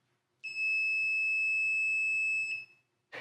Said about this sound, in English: because there's going to be an audible beep